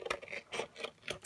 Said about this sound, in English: These are my Tim Holtz scissors by Tonic.